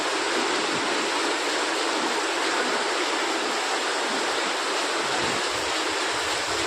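Heavy rain pours down in a dense, loud, unbroken hiss that stays steady from start to finish, with no voices over it.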